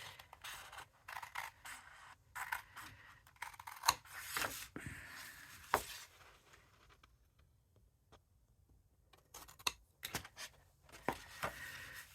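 Scissors cut paper ephemera in quick irregular snips and crisp rustling bursts, close up and quiet, with pauses between cuts and some soft handling of paper.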